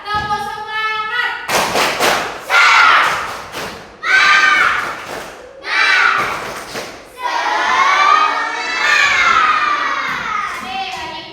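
Children in a coding lesson clap and shout the tepuk semangat chant in loud rhythmic bursts, groups of sharp claps alternating with voiced chanting, close and energetic.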